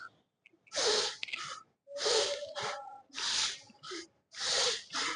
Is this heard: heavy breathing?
yes